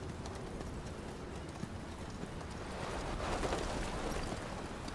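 Horse hooves clip-clop in the game Metal Gear Solid V: The Phantom Pain, a steady rhythmic trot over a rough ambient bed that swells slightly louder in the second half.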